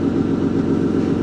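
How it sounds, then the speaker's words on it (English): Aston Martin car engine idling while warming up, a steady low rumble close by, even and unbroken throughout, with no voices. "I gotta let this car warm up real quick"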